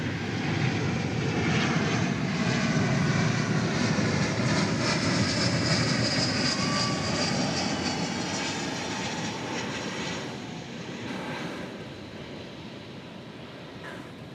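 Airbus A321 jet arriving from Palm Springs at DFW Airport, a loud, steady broadband engine roar that swells and then slowly fades over several seconds, with no voices.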